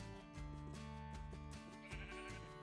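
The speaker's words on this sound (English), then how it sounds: "Ooh, sheep." Sheep in the video game Minecraft bleat in a string of close, wavering cries, several overlapping calls over a faint musical background.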